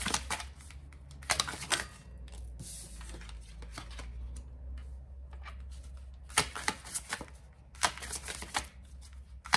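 Tarot cards are shuffled by hand in uneven bursts of crisp riffling and slapping, close and fairly quiet, with short pauses between runs.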